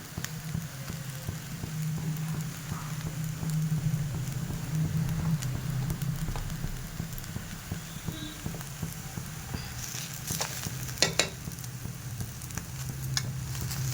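Ghee heating in a pan while being stirred, a low steady sizzle with soft scraping and a few sharper clicks near the end, fairly quiet and without talking.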